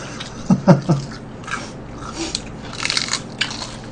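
A few close, crisp crunching bites into crispy fried chicken with a thin batter coating, followed by quieter chewing and crackling.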